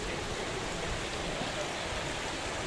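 Water flows into a pool at Bhagsunag temple with an even, constant rushing wash. It sounds close and fairly soft, and no talking is heard over it.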